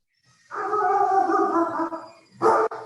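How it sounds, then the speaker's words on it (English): A dog howls and barks indoors: a long wavering howl, then a short sharp bark after a brief pause, loud and close with no talk. "And the dog's barking."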